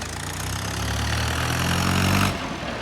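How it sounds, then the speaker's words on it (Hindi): A tractor engine idles close by with a steady low rumble and throb, then cuts off abruptly near the end, leaving quieter background. "देखो हमारी ट्रैक्टर आ गई।"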